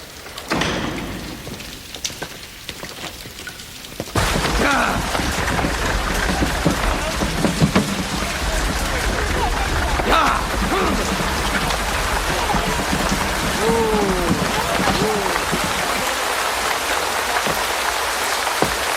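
Rain falling: a steady, fairly loud patter that swells sharply after a quieter opening and then continues evenly, with faint voices mixed in beneath the downpour.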